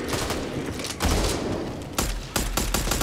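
Rapid bursts of gunfire from the Back 4 Blood co-op shooter, a steady rattle of shots that breaks into loud separate blasts in the second half, close and dense with no talk over it.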